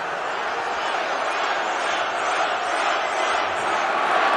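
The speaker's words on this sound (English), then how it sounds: "Oh, the crowd is, of course, going wild." A crowd of thousands at a rally in Tennessee roars and cheers continuously, loud and dense with shouting, while a protest interrupts the speech.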